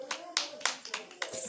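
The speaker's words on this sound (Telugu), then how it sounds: "చప్పట్లు కొట్ట" A child claps hands in a lively, uneven rhythm, about five or six sharp claps at close range, with faint background voices mixed in.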